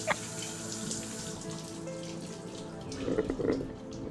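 Water from a shower runs steadily with a soft hiss, and a few small splashes stand out near the end, faint and close.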